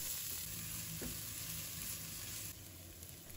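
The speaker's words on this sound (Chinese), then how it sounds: "锅里剩下的油呢，就不需要倒掉，直接倒入蒜姜葱和小米辣爆香。" Garlic, ginger, scallion and bird's eye chili sizzle in leftover oil in a wok after fish has been pan-fried, a steady close hiss with a faint clink of stirring and no voices.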